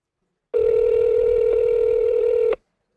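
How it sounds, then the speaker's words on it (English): A telephone line gives a single steady tone lasting about two seconds, loud and close, beginning and stopping abruptly with silence on either side. "I'm going to call her right now on the phone"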